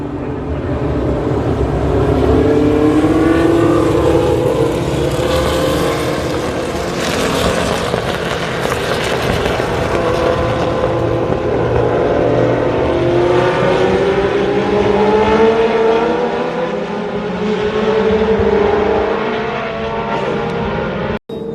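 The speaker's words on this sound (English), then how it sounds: "So the Grand Prix cars have taken the green flag." Historic Grand Prix race cars roar past at Road Atlanta, a loud, sustained engine drone with rising and falling pitch as several cars rush by one after another, close and continuous for the whole stretch.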